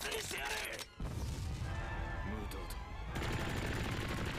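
Tommy gun bursts in a One Piece anime fight scene, a dense run of rapid gunfire with clatter and booms over a soundtrack, with a reacting voice talking at moments throughout.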